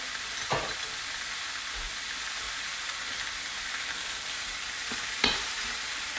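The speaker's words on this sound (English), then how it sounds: "As this is cooking, you want to kind of chop it with your turner." Ground meat frying steadily in a pan for lasagna, a constant broadband sizzle with two sharp scraping clicks of a turner chopping it against the pan, close up and with no talking.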